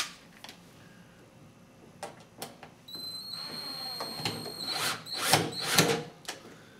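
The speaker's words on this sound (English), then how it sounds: "And then we'll get this last screw in there. Then we can go ahead and run them down." A power drill drives screws into plastic while fitting an overload protector to an EdgeStar microwave/refrigerator combo; several short whirring bursts stand out, louder toward the end, with a few clicks between them.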